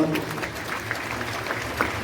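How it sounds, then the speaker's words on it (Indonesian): A congregation applauds at a church sermon, a dense burst of clapping that carries steadily for about two seconds at moderate loudness. "Tepuk tangan yang paling meriah loh."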